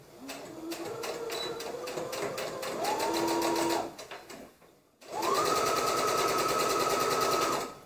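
A sewing machine runs in two long bursts stitching a 5/8-inch seam allowance on garment front pieces, its rapid needle chatter steady and close, with a brief pause between runs.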